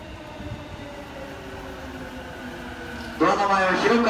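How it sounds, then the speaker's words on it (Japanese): A train arrives at the Kozukue station platform on the Yokohama Line while a station announcement plays. The rumble builds quietly, then turns to a louder rush of wheels and brakes near the end. "到着いたします電車は横浜方面桜木町行きです。"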